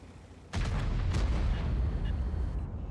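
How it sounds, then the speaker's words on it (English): A heavy tank cannon blast in World of Tanks booms suddenly after a quiet moment, then a deep rumbling roll of battle noise and more distant shots carries on at moderate volume. "Shots coming from everywhere."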